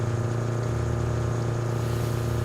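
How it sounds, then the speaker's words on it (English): A car engine in a video game demo holds at redline without letting up, a loud, constant high-revving drone with a steady tone throughout. "hearing the engine redline the entire way is a little annoying"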